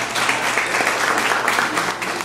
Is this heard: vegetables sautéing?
no